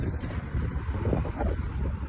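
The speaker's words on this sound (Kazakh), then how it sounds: "Жел ғой, өзі естіліп жатыр ма?" Wind buffeting a microphone outdoors on a farm during cow milking, a loud, continuous low rumble and rustle throughout the short stretch, no talk.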